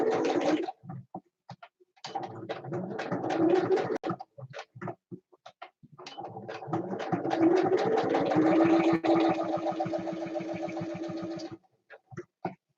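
A home sewing machine stitches a napkin craft piece, its motor whirring in short rapid bursts and then a longer steady run before stopping, close and clear with no talking.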